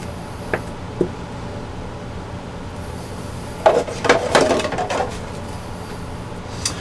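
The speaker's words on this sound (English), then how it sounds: "I'm mixing 2-part epoxy, and it's 5-minute epoxy." Two-part five-minute epoxy being mixed by hand: a couple of soft isolated ticks early on, then a brief burst of close scraping and stirring against a container, with quiet room noise around it.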